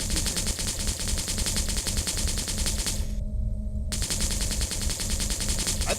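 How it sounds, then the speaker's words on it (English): Vulcan cannon on a vehicle in the Project Frontier game firing in a fast, continuous stream of shots, loud and close, cutting off for under a second before resuming. "the cannon, the Vulcan you guys are probably waiting to see, shoots very fast"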